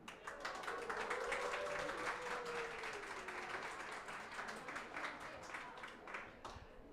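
A conference audience in Berlin cheering and clapping on cue, a dense sustained burst of applause and shouts from a crowded room, lasting several seconds before fading slightly.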